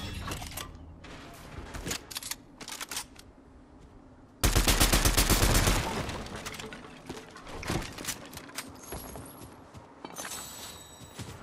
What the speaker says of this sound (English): I was just shooting down a chest.